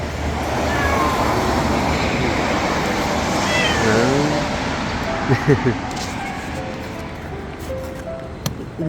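A pet cat meows a few times indoors, with short rising and falling calls that are fairly faint under steady background noise. A person speaks softly nearby.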